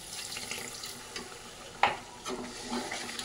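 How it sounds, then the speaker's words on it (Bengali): Spice masala is cooked down in a pan after a splash of spice-rinsing water, giving a wet, bubbling sizzle broken by scraping stirs and one sharp clink of the spoon. "জলটা দিয়ে বেশ খানিকক্ষণ আর একটু কষিয়ে নেবো মশলা"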